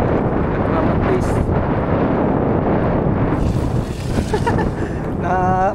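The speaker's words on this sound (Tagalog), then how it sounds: "dito kasi mahangin dyan" Strong wind buffeting the microphone near the water where a 14-foot cast net is thrown, a loud continuous rumbling roar that covers everything throughout.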